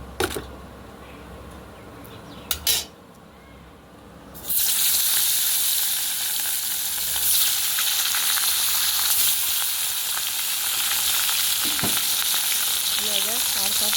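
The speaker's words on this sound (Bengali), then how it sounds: "তেলগুলো খুব গরম হয়ে গেছে, আমি মাছগুলো দিয়ে দিই।" Fish drop into very hot oil in a home kitchen: after a few quiet clatters, a loud, steady sizzle suddenly starts and keeps going, close and continuous.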